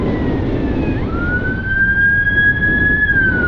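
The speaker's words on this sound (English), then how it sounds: "there goes the ambulance or a cop" An ambulance or police car siren wails past at moderate distance, its tone sliding and holding over steady outdoor wind and traffic noise, with no talking.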